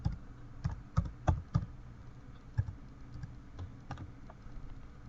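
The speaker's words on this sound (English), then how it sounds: "let's try typing in a common Hispanic name, maybe Miguel." Keys tapped on a computer keyboard in short irregular bursts of sharp clicks, close and fairly quiet, with pauses between clusters and no talking.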